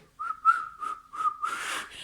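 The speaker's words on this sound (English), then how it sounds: "Can you whistle? Yes, I can whistle." A person whistles a short tune alone, several clear pitched notes in an uneven rhythm close to the microphone, ending in a breathy, airy rush.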